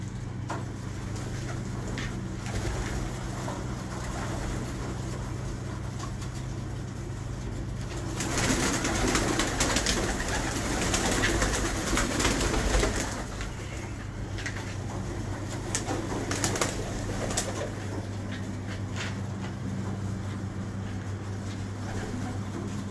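Pigeons coo softly in a loft among a keeper's birds, a low steady murmur with a louder stretch in the middle, heard alone without talking under a continuous background hum.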